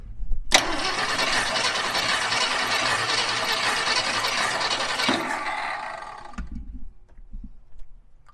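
An old Ford F-100 truck engine, left in junkyard condition, cranks and catches abruptly, roars loudly at steady revs for about five seconds, then cuts off, leaving faint low rumbles and clunks.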